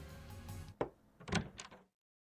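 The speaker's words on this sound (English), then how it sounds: "I hear a knock, and then the door opens." A knock followed by a door opening in the visual novel game Steins;Gate, a soft thud then a short creaking swing over faint background music, ending in silence.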